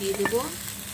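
Potatoes frying with vegetables and green chillies added, a brief close sizzle with a couple of quick stirring scrapes.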